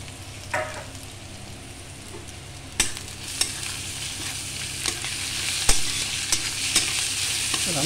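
Grated potato sizzles in a pan with onion and green chili, a steady frying hiss punctuated by sharp scrapes and taps of a stirring spatula, close and clear with no talk.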